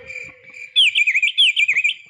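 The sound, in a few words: crickets chirping at night, sound effect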